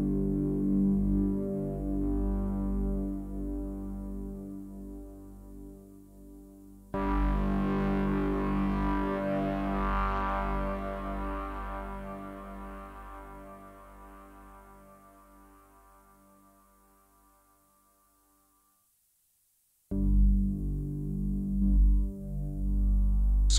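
One sustained note from a Hydra digital synthesizer passes through delay and reverb, with a buzzy, harmonic-rich tone that swells, drops suddenly, and then fades slowly to silence before another note starts.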